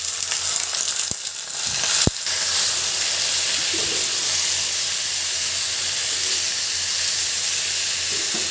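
Potatoes hit hot oil with fried onions, giving a steady loud sizzle and hiss after a couple of sharp clinks from a pan or utensil.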